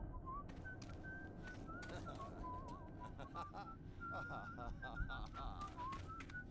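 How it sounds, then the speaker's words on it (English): Ambient whistling in the video game Bioshock, a series of short, melodic whistled notes repeating over several seconds beneath steady background noise, with a voice talking over it. "I'm not sure where that whistling is coming from."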